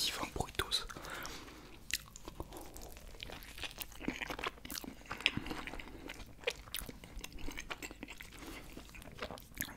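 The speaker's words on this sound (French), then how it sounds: "je vais croquer dans ce divin burritos" Big bites into an XXL burrito, with crunchy, wet chewing and crinkling wrapper sounds repeating close up and soft throughout, under faint breathy whispers.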